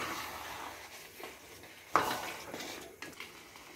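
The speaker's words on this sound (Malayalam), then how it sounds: "നമുക്ക് നല്ലോണം ഇളക്കി കൊടുക്കാം." Fruit payasam being stirred with ghee in a pan for an Onam dessert, a few soft scrapes and one sharper clink of the spoon against the metal, quiet and close with no talk.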